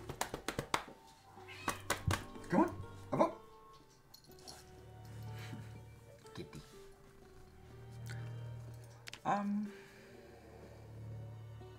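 A house cat meows several times, close and clear, amid clattering taps and a low game soundtrack, while someone talks to it off and on.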